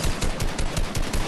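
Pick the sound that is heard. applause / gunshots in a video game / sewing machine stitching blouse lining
gunshots in a video game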